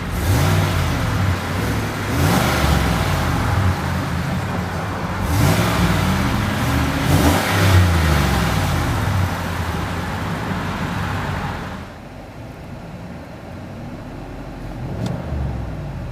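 A 2015 Cadillac Escalade 4x4 on the road gives a loud, steady engine drone with tire and road noise, rising in a few revving surges before easing to a quieter hum.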